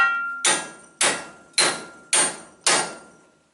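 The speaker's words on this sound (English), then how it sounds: "Get you a big chisel and just wedge it down in there." A hammer strikes a big chisel to wedge it into a 1984 one-ton CUCV Chevy square-body truck, five sharp, evenly spaced metallic blows that ring out and decay, close and loud with no talking.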